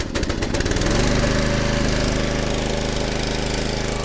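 A gas engine on a wood splitter catches after a pull start. It sputters for a moment, then settles into a loud, steady running drone with a regular thumping beat.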